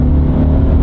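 A cheap Toyota 4-cylinder engine pulls hard at full throttle while the car passes at about 40 mph, a loud steady drone with road noise and no talking.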